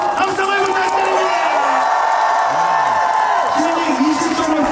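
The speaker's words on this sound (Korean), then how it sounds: "힘찬 박수와 함성을 부탁드립니다" At a Hanwha Eagles home opening win at a baseball stadium, a large crowd roars and cheers in a steady, continuous wash of noise while an announcer's amplified voice carries over it.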